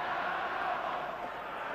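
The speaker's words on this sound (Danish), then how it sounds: "Det danske publikum er det vidunderligt, sejren er vores." A Danish football crowd in a stadium roars in a steady, broad wash of cheering during the 1985 Ireland versus Denmark World Cup qualifier, distant and sustained for the whole short stretch.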